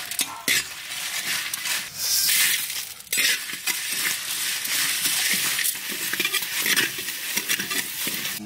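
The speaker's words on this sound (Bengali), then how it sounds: "আমরা শুকনো খোলায় এই মশলাগুলো ভেজে নেব হালকা করে।" Whole spices, cinnamon, cloves, cardamom, dried red chillies, coriander, cumin and fennel, dry roasting in a hot pan for a Bihari mutton curry, giving a steady close rattling, scraping stir with a sizzling hiss throughout, no talk.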